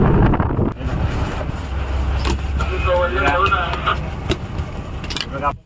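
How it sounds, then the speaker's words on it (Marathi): Strong sea wind buffets a fishing boat off Satpati near Mumbai, a constant roaring gust noise with the rumble of the vessel beneath while someone talks over it. "वारा कमी होत नाही बरेच दिवस झाले आपले समुद्रामध्ये वारा चालूच आहेत"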